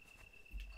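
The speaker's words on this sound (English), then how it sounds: "Here, crickets once more." Crickets chirp in a Resident Evil 4 game environment as a faint, steady high trill held throughout the short stretch, with a soft low thump near the end.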